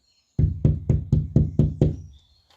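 Six firm knocks in a steady rhythm on a hardened first layer of plaster on a wall, close and fairly loud, followed by a short quiet tail.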